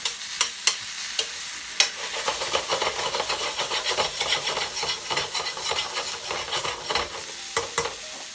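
Minced garlic stirred through mushrooms and seasoned pork in a pan: a constant sizzle and hiss broken by repeated sharp scrapes and clacks of a utensil, close and clear with no talking.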